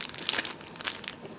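A plastic bag holding an Esbit alcohol stove crinkles close up in a survival pack, bursts of crackling rustle that come and go without talk.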